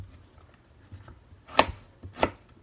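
Fresh garden cauliflower chopped with a knife on a cutting board: two loud, crisp crunching chops stand out over a few fainter taps, close and quiet in between.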